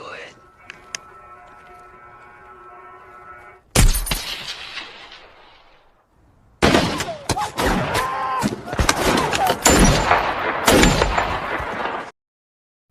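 Gunfire in a war-film shootout against Taliban fighters: a burst of sharp shots, then a pause and a longer stretch of dense, loud cracks and impacts.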